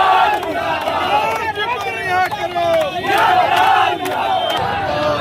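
Hundreds of Samajwadi Party workers at a protest rally at Subhash crossroads shout slogans together in loud, rhythmic chants, a dense crowd roar with overlapping voices throughout.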